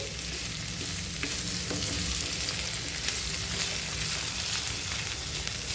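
Boiled tammakaya (broad beans) frying in hot oil for a Telugu stir-fry, a steady close sizzle and crackle running throughout with occasional scrapes of stirring and no voices.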